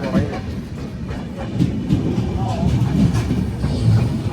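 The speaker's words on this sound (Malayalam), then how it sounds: "നല്ല സ്പീഡിനാണ് പോണത് തന്നെ ഗൈസ് അപ്പം ഇത് തന്നെ ട്രെയിന്" A train rumbles along with a steady roar and rhythmic clickety-clack of wheels, loud and close, while a person talks underneath.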